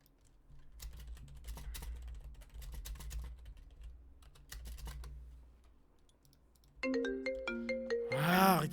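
An incoming call's phone ringtone bursts in loudly near the end as a bright repeating electronic melody, following several seconds of soft keyboard typing and faint background hum.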